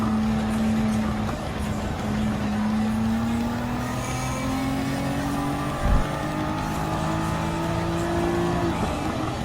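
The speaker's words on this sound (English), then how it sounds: "the tuner Toyota Supra RC 1997 is climbing up, taking turn 4 and going up the hill in turn 5" Tuned 1997 Toyota Supra RC in Gran Turismo 7 climbing an uphill stretch of a race track, its engine droning steadily and rising in pitch through gear changes, loud and continuous with a brief thump midway.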